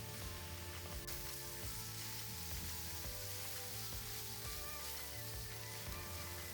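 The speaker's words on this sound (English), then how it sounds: "I'm going to let the fat essentially render out of this sausage, and then I'm going to add in my mushrooms and get all of those cooked down." Sausage and mushrooms sizzle steadily in a pan as they fry for a risotto, making a continuous, even crackle with no voices.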